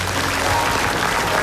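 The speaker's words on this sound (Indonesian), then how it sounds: "Tepuk tangan dulu dong." A studio audience at an Indonesian comedy show breaks into a short, dense burst of applause, loud and steady throughout with no speech over it.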